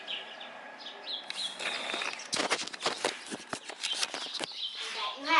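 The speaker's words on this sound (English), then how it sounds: "got a little distracted from the bird fights" Young birds squabble and chirp outdoors in sharp bursts of tweets and scuffling. The calls start sparse and build to a dense, rapid flurry near the end, with no speech.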